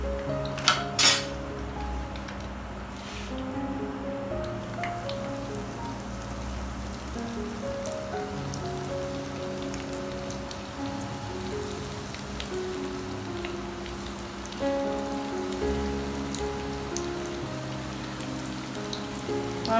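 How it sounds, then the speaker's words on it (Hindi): Aloo chicken rolls fry in a pan over low heat, producing a steady, rain-like patter of hissing oil with a few utensil clinks near the start. "अब हम बाकी भी रोल ऐसे फ्राई कर लेंगे।"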